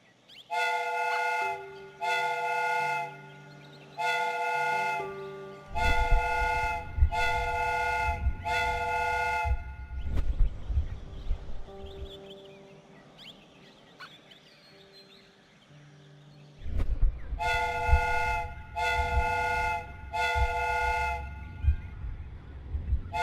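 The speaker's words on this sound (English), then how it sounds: "The steam whistle is ready to be used." A steam whistle in the video game Sherlock Holmes: Crimes & Punishments blows in repeated bursts, then a rumbling chuffing stretch with scattered mechanical noises, before the whistle sounds again in a series of blasts.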